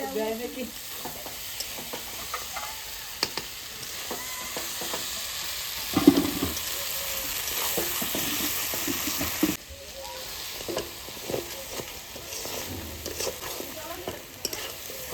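Pieces of country chicken sauté in a pan with a continuous sizzle and fry hiss, broken by clattering stirs and scrapes of a utensil at irregular moments, close and moderately loud.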